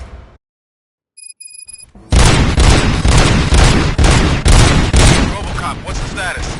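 Sustained burst of gunfire from the RoboCop game, loud and dense rapid shots after a brief quiet lead-in with a few electronic beeps, continuing for several seconds.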